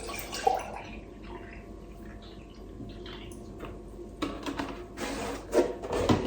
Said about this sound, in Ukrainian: беремо кружку і наливаємо в неї молоко